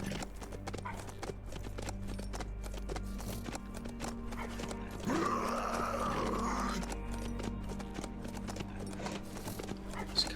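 A horse ridden in the zombie survival game HumanitZ clip-clops with a steady rhythmic hoof beat over a low hum, with a brief louder swell midway.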